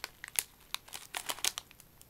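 A small plastic bag of dried goji berries crinkles and rustles in quick, irregular bursts, close by and fairly quiet, with no talking.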